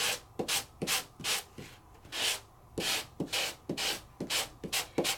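Repeated rough scraping strokes of a sanding block rubbing over die-cut paper, about a dozen quick passes in an uneven rhythm, close and fairly quiet.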